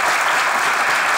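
A studio audience breaks into loud, dense applause, a brief sustained burst of clapping with no talk over it.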